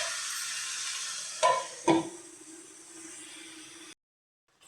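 Country chicken frying on a low flame for egg curry, giving a steady soft sizzle broken by two brief louder stirring clunks before the sound cuts to silence.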